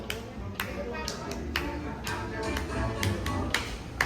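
Hands clapping at a party on a cruise, a string of sharp, fairly regular claps about twice a second over lively background chatter and voices.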